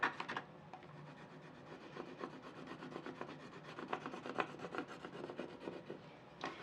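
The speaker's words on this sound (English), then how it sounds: "then you can go back with your scraping tool and really get it down" A scraping tool is worked firmly over a vinyl decal on a cylindrical tumbler, giving a soft, continuous rubbing and rasping made of repeated short strokes. It is quiet and close, with no voices.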